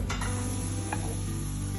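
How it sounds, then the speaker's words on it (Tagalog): Butter sizzling and crackling steadily in a heated 12-quart roaster for a stir-fry, a close, continuous frying hiss with a faint stir or tick partway through. "we heated up the 12-quart roaster because we want to stir fry"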